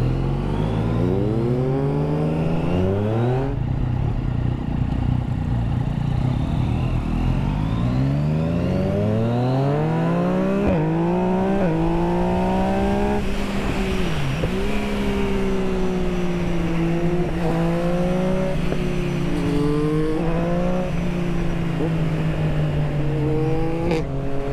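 Yamaha motorcycle ridden in A-mode, its engine droning steadily and close with repeated rising and falling revs as it accelerates and shifts, plus continuous wind rush throughout.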